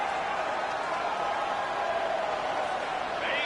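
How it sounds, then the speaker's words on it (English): Steady, even crowd noise from a college football video game builds on a big third down, a continuous wash of cheering at constant level with no distinct peaks. "The crowd elevating its energy, willing this defense to get a stop on this big 3rd down."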